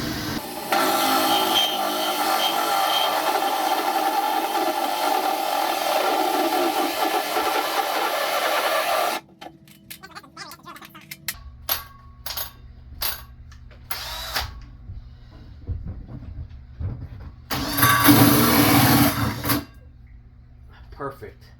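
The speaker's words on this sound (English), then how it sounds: "hole saw, take 1" A hole saw on a mandrel, run at raised drill speed, cuts a marked hole while building a box cover for a Chinese diesel heater. A loud, steady grinding runs about nine seconds, then gives way to short bursts and one final burst.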